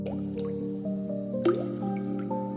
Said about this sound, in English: The sound of dripping water echoed.